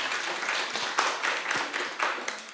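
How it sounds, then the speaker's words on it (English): An audience gives a brief round of applause for event guests: a dense burst of many hands clapping, moderately loud, with uneven peaks over a couple of seconds. "Can we have a round of applause for all of our guests that we've had so far?"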